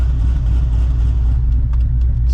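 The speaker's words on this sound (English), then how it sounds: "It's the sound of Cam's Corvette" A big-turbo C5 Corvette on the road, its engine a loud continuous low rumble heard from inside the car, steady throughout with a faint higher whine above it and no talk.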